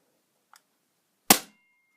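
A BB gun fires at an empty ice cream packet, giving one sharp, loud crack after a faint click, then quiet.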